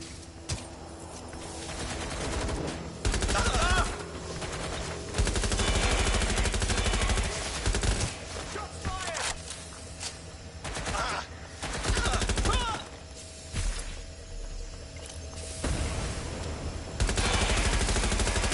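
Gunfire in Watch Dogs: Legion, dense bursts of automatic weapon fire and scattered shots that keep going throughout, loud and close, with game voices now and then under the shooting.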